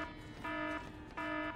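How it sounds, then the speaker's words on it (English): A phone alarm beeps faintly in two short, evenly spaced electronic tones, each lasting about a third of a second, set against a busy background. "That alarm's annoying."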